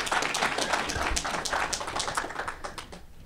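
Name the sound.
audience applause welcoming Amanda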